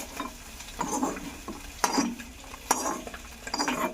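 Soybeans frying in a pan over a village home cooking fire, with a steady low sizzle broken by several sharp scraping clinks of a spatula stirring them, close and moderately loud with no talking.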